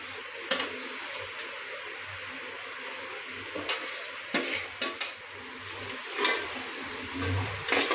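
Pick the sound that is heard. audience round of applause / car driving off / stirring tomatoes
stirring tomatoes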